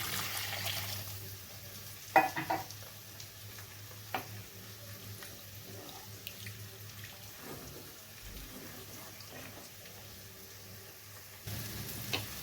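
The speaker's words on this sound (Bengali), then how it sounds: "এখানে আমি জলটা দিয়ে দিচ্ছি পরিমাণ মতন" Water poured into a pan of cooking masala and softened potatoes for a fish curry, with a soft hiss and bubbling, a few faint utensil knocks, and a brief louder pour near the end.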